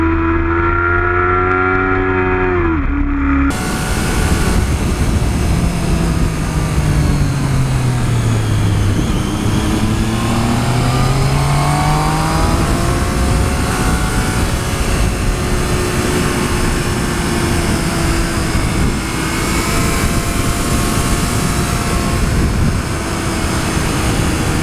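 A 2014 Triumph Street Triple R's engine drones loud and close while riding in second gear, its pitch rising and falling with the throttle over a bumpy stretch.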